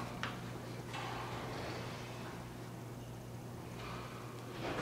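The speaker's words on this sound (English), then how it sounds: "Large clicky buttons." Large clicky buttons on a US elevator in the blue building at Fountaingrove Centre are pressed, giving a few sharp, separate clicks over a steady mechanical hum in the car.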